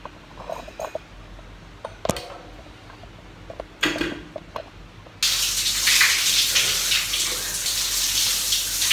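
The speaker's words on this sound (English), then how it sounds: "now I'm gonna take my shower" A shower bursts on at close range and keeps running as a steady, loud hiss of spraying water, after a few clinks and knocks in a bathroom; rain was falling outside.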